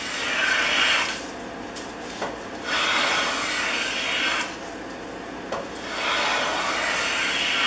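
An old Stanley No. 130 double-ended block plane shaves wood in three long rasping strokes, each a close, bright swish separated by brief pauses with small knocks as the plane is reset.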